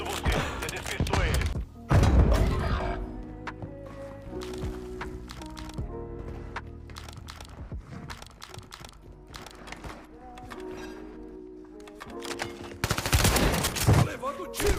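Gunfire in the Warzone video game crackles in rapid, loud bursts and volleys, heaviest at the start and end, with thuds and a player talking between shots.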